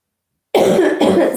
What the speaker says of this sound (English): Sorry, guys, about the coughing.